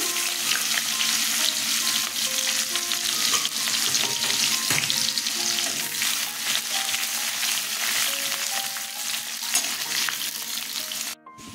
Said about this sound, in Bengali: শুকনো লঙ্কা, তেজপাতা দিয়ে দিলাম, পেঁয়াজ ফোড়নে দিলাম